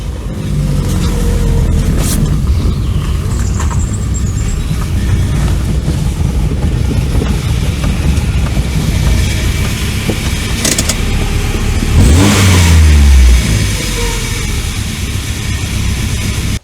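An abandoned VW Scirocco Storm running and driving, with a loud, steady engine drone and road rumble throughout and a brief swelling rev near the end.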